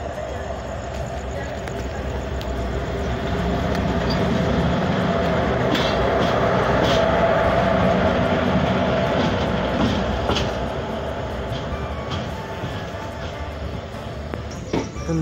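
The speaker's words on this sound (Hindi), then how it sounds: "अपना कल्याण लोको शेड का WCAM 2 लोकोमोटिव पीछे से आगे की ओर आता हुआ।" A WCAM 2 electric locomotive from the Kalyan loco shed rolls along the track during a reversal at a junction, a steady loud rumble with faint rail clatter swelling and easing over the stretch, with talk faintly present.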